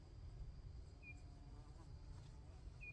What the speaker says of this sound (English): Carpenter bee.